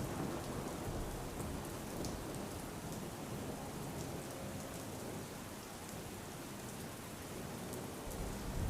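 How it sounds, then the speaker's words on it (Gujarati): Heavy monsoon rain pouring steadily over Palanpur streets, a dense constant hiss of downpour with splashing on surfaces, occasional faint rumbles beneath, and no voices. "પાલનપુરમાં સતત ધોધમાર વરસાદ વરસી રહ્યો છે"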